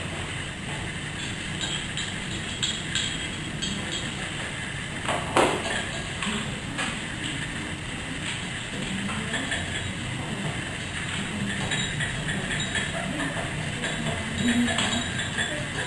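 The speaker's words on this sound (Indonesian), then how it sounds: "Nah, kita masukkan ya. Kita aduk kembali." A spoon stirs a colloid mixture of milk and water in a glass, giving faint scattered clinks and pings against a steady background hum.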